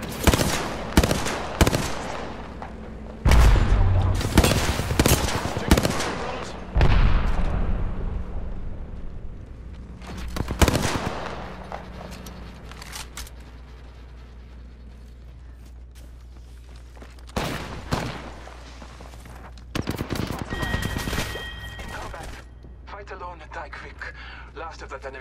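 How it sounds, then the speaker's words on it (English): Gunfire in Apex Legends: bursts of automatic shots come in clusters at the start, with further volleys and impacts scattered through the rest, mixed with game effects and occasional talk. "Someone's shooting at me."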